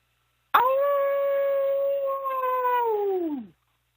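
A person imitates a dog howl, one long sustained wavering note that rises in sharply, holds for about three seconds and then sags and fades out, clear and close against silence.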